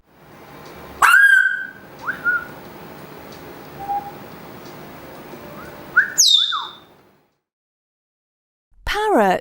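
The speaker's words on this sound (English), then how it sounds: "Parrot." A parrot gives loud, shrill whistled calls and squawks in short bursts over a steady background din, then, after a brief silence, one more harsh squawk.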